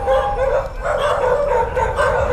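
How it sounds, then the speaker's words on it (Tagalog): A dog barks loudly and close by in a quick run of several yaps and woofs, with a slight whimpering edge between them. "doon palang kakahol yung aso."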